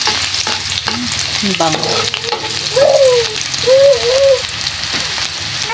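Onions frying in a pan for a pechay and sardine dish, a steady close sizzle and crackle running throughout, with a brief spoken remark over it.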